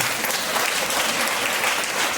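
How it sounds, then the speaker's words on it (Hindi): Loud, dense applause from a church healing meeting audience fills the whole moment as steady, continuous clapping with no pauses. "जोरदार ताली बजाइए।"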